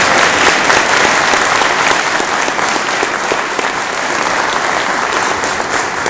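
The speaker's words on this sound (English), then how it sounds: "so give her a round of applause" Audience applause at a city council candidates' debate in Leominster, a dense, steady clapping from a room full of people that holds at an even level throughout.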